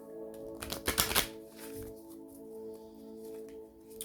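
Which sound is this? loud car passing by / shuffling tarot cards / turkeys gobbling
shuffling tarot cards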